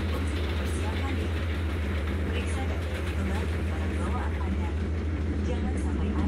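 A low, steady rumble of a passing freight train in a train simulator game, with rhythmic droning, heard over a person speaking.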